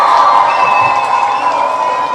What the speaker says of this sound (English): let's please give to Keisha a huge round of applause.